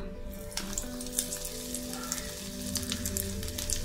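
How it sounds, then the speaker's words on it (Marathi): Oats cutlets frying in two spoons of oil over a low flame, a steady close sizzle with faint crackles running the whole time. "कटलेट फ्राय करून घेऊया"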